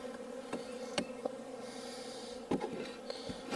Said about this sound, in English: If you knock bees out, they'll crawl back up or they'll fly back up.